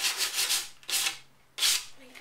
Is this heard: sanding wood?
yes